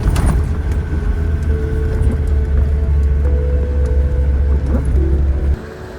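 Steady low rumble of a Toyota 4x4 rolling along a snowy road in France, heard from inside the cabin as a loud, continuous engine and tyre drone that drops off abruptly near the end.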